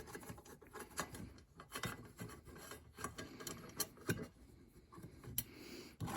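A bolt being screwed in by hand on an 8-inch bench top jointer, heard as soft irregular scraping and ticking metal contacts, close and quiet, ending in a sharper knock.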